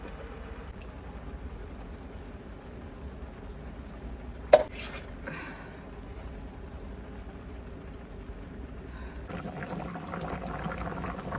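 Diet soup at a rolling boil in a pot, a soft, steady bubbling hiss with one sharp metallic clink midway and a slightly brighter, busier simmer near the end; no talking.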